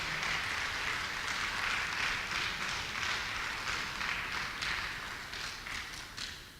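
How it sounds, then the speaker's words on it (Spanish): A church congregation applauds together, a steady wash of many hands clapping at moderate distance, fairly quiet and tapering slightly toward the end. "Dale un aplauso fuerte al Señor, pero dáselo fuerte."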